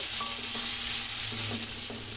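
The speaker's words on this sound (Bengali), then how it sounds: "এর মধ্যে আদা, দেবো পেঁয়াজ কুচি, ভালো করে হালকা ব্রাউন ব্রাউন করে ভেজে নেব।" Chopped onions and ginger sizzle steadily in a hot pan, with a few soft scraping stirs breaking through the continuous crackle.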